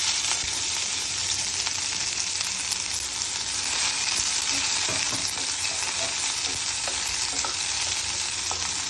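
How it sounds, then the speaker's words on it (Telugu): Onion pieces frying in hot oil with cumin seeds and curry leaves for bread masala, a loud, dense, continuous sizzle with occasional crackles and stirring scrapes, unbroken by speech. "ఇప్పుడు మనం ఆనియన్ పీసెస్ వేస్తున్నాము"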